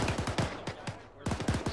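Rapid machine-gun bursts in a combat video game, a quick run of sharp shots, a short pause, then another burst, fairly close and clear.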